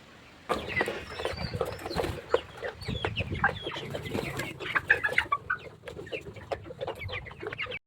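A flock of poultry chicks chirps and peeps busily and continuously at close range, with occasional soft clucks mixed in.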